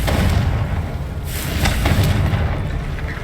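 Confringo spell blast from Hogwarts Legacy, a deep booming explosion that rumbles steadily throughout with a few sharper cracks layered on top, loud and close with no talk.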